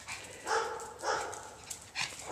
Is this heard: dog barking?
yes